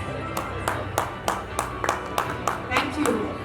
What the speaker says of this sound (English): Can we have huge claps?